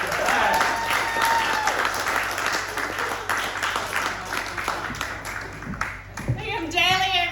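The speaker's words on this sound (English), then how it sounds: "give him the clap" An audience at a live comedy show applauds a comedian in a loud, dense burst of clapping and cheering that fades slightly before a voice speaks over the tail end.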